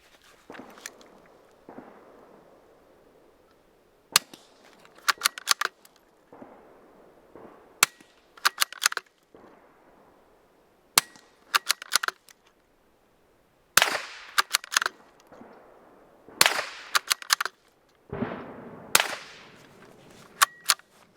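Suppressed .22 shots fired wet through a Dead Air Mask silencer, a mix of subsonic and supersonic rounds, give about a dozen sharp, close cracks and pops in small clusters, with quiet gaps and faint handling noise between them.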